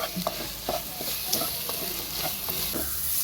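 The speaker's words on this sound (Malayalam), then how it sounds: "ഇനി ഇതിൻ്റെ പച്ചമണം മാറുന്ന വരെ നന്നായിട്ട് മിക്സ് ചെയ്ത് വഴറ്റിയെടുക്കാം" Garam masala sizzles in a curry base in a pan while being mixed and sautéed, with soft scraping stirs over a constant hiss.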